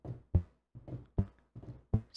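Soft transient thumps of a sine wave synth tone with slow attack, shaped by Bitwig's spectral devices, repeating in a steady pattern of about three low muffled knocks per pulse, quiet and alone.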